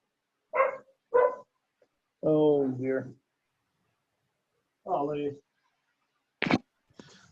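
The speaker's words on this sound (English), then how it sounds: "Dog barking." During an online parks and recreation commission meeting, a dog gives two sharp barks in the background, followed by bursts of people talking with quiet gaps between them.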